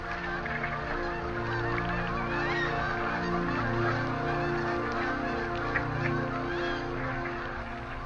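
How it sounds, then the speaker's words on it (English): A large wintering flock of snow geese and white-fronted geese honks on a California wildlife refuge pond, a dense, continuous chorus of overlapping calls that stays loud and steady throughout. "Snow geese, white-fronted geese, northern shovelers, and pintails settle in among the National Wildlife Refuge complexes."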